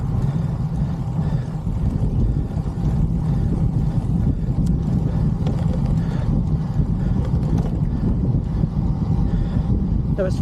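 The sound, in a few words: wind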